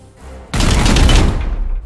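A loud burst of rapid gunfire in the video game Warhammer 40,000: Chaos Gate - Daemonhunters erupts suddenly and keeps going, dense and continuous, with echoing booms underneath.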